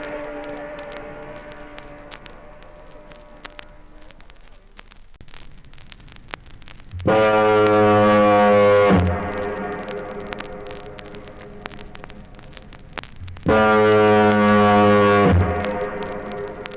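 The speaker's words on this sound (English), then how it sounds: "That's the sound that every TT rider dreads, the Douglas foghorn." Two long, deep blasts of the Douglas foghorn at the Isle of Man TT, each lasting about two seconds, loud and resonant over a background of faint crackling static.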